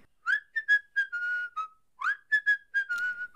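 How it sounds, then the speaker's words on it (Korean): Someone whistles a short tune close by, two phrases of chirpy rising notes and held tones, clear and alone against silence. "미명에 들리는 휘파람 소리."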